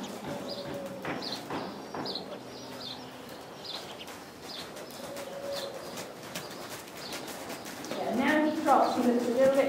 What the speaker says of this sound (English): Let's see you a little bit trot rising.